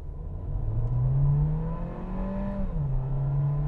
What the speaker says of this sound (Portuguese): Dá uma carregadinha no brake boost ali, só pra gente ver se ele faz uma cantadinha de pneus